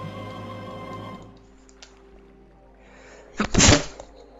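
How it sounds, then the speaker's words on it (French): A person stifles a sneeze during a Zelda Twilight Princess gameplay session, a short muffled burst near the end after quiet game music fades. "j'ai réussi à étouffer cet éternuement le mieux possible"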